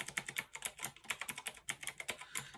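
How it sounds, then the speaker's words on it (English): Quick, crisp clacking keystrokes on a Fineday mechanical keyboard, close and fairly quiet, in an uneven run of taps with brief pauses and no talking. "Yeah, it's a nice typing experience."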